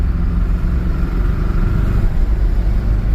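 A 1982 Porsche 924 Turbo engine drones steadily while driving on the road, a loud, continuous low rumble with slight rises and dips in load and no one talking.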